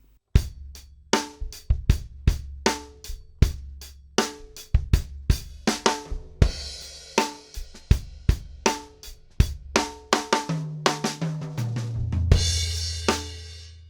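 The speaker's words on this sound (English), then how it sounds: "There is nothing worse than hearing a tom fill sound like this." Drum kit tom fill played with poor balance between the toms: a long run of sharp, evenly spaced hits with ringing low tails, the pitch stepping down toward the end, loud and close with no talking.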